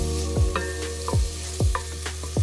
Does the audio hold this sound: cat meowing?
no